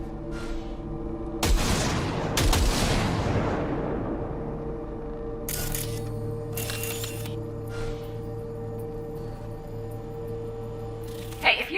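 Single gunshots in Cyberpunk 2077 at a calibration target range: two sharp loud blasts close together with long ringing decay, then quieter bursts of noise later, over steady low ambient hum.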